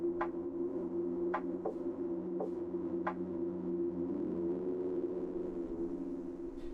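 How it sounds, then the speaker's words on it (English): Strange Morse code tapping coming over a phone line in the video game Reverse: 1999, sharp clicks in an irregular rhythm of short and long spacing over a steady droning hum. "A series of strange tapping sounds come from the other end of the line."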